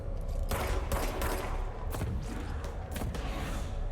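Gunshots in the video game Control, a quick series of sharp shots and thuds over a constant low rumble, moderately loud and fairly close.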